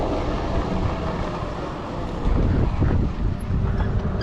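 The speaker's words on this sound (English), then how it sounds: "Yeah, it's just so freaking windy." Strong wind buffeting a microphone outdoors beside a high-power electric bike with twin motors, a loud continuous low rumble and roar that surges a little louder toward the end, with no talking.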